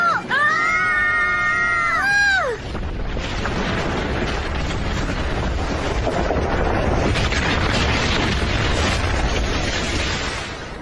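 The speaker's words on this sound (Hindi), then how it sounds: "धमाका कैसे हुआ" Wavering, wailing tones give way to a sudden cartoon blast from a Doraemon episode that swells into a loud, sustained roaring rumble lasting several seconds.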